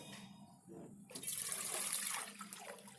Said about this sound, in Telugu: ఒక 6 గ్లాసుల వాటర్ పోసుకోవాలండి.